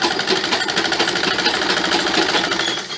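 A sewing machine stitches a shervani suit, running continuously at high speed with a loud, close, dense mechanical rattle and a fast, even needle rhythm throughout.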